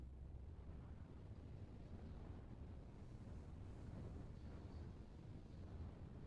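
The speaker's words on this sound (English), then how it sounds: "The wind she's picking up." Steady outdoor wind buffeting the microphone, a constant low rumbling roar with no breaks, fairly faint overall and with no voices.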